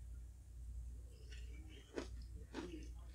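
Soft wet chewing of coconut from a halo halo dessert, a few close, quiet bites and mouth sounds with a faint low background hum.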